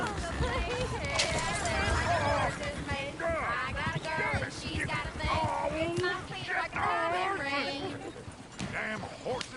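Horses in Red Dead Redemption II whinny and neigh repeatedly in overlapping, wavering calls, mixed with talking and background bustle throughout.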